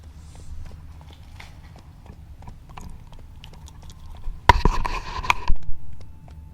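Hooves of the horse Roach clip-clopping at a slow, steady pace in the Witcher 3 video game, soft and regular, with a louder burst of clatter partway through.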